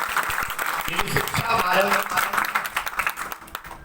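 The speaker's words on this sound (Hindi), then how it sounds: "एक बार इनके लिए जोर से ताली बजाइए आप लोग" An audience at a devotional gathering during Navratri applauds loudly, the clapping mixed under a voice that keeps speaking over it.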